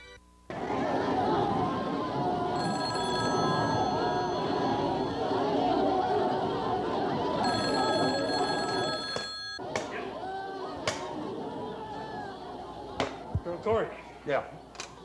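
An office telephone rings repeatedly in steady bursts over a chattering crowd, the rings loud and near before giving way to scattered clatter and sharp knocks.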